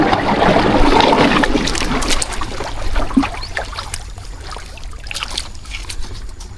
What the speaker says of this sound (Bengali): আমাদের নৌকাটা এখনই ছাড়া হবে